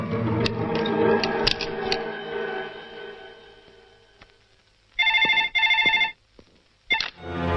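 A telephone rings in a quiet room, two bright electronic trilling bursts back to back, then a short third burst after a pause, with faint background rumble and music fading out beforehand.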